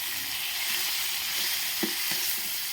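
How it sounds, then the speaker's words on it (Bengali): Fish frying in a pan as the pieces are turned over, with a loud, continuous hiss of hot oil and a couple of soft knocks from the flipping. "এই যে আমি মাছগুলো উল্টাই দিলাম"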